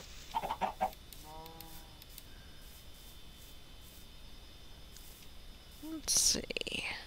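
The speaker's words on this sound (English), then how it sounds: "Oh, lots of chickens." Chickens cluck and squawk in the game New World, scattered short calls over a quiet background, with a soft whispered voice between them.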